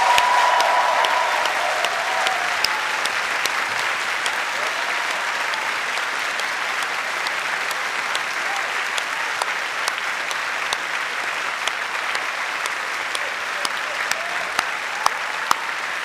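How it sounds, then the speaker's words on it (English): A large audience in a hall applauds staff at a graduation ceremony, producing sustained, even, dense clapping that holds at a steady level for about sixteen seconds with no talk over it. "join me in applauding our outstanding staff and all they've done to support you in your time here"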